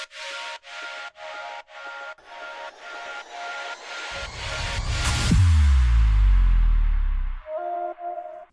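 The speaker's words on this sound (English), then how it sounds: "It's just like adding some more downlifters" Downlifter effects in an electronic track sweep down over a looping rhythmic pattern, swelling loud and deep in the middle and then cutting to a brief tonal figure, with no one speaking.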